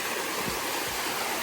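A waterfall and streams near a mountain village in Lamjung produce a steady, dense rush of falling water that fills the whole short moment without a break.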